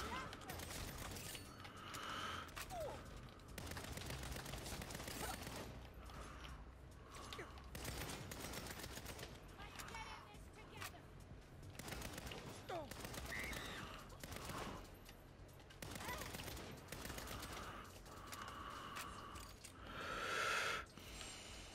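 Gunfire from the Saints Row video game comes in repeated bursts and scattered shots across a long stretch of play, quiet overall and heard under some speech.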